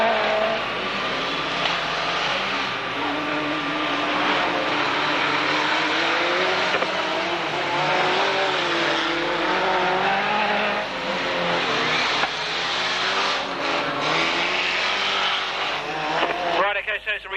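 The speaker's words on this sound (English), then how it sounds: "Back in the racing car again now." Racing cars lapping the track at a 1991 Braintree Auto Club van meeting, engines droning steadily throughout with shifting pitch, under a commentator's voice talking continuously.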